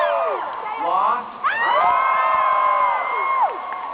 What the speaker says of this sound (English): Maybe we should just save the applause for the end.